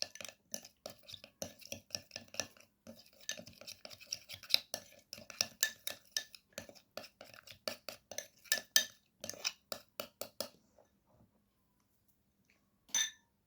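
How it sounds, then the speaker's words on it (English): A spoon stirs a teeth-whitening paste of mixed ingredients in a small bowl, giving rapid, close clinks and scrapes in an irregular rhythm that stop about two-thirds of the way through, followed by a single last tap. "Now mix well all the ingredients."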